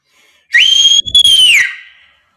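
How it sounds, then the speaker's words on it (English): A person whistles loudly and shrilly to get pupils' attention, a single sustained high blast with a brief dip in the middle before it trails off, close and alone. "Or I blow a whistle, or I do the whistle."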